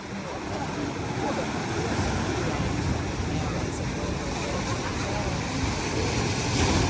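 Wind-driven waves on Lake Michigan in strong winds, a loud, steady roar of surf and gusting wind rumbling against the microphone, sustained throughout with a slight swell near the end.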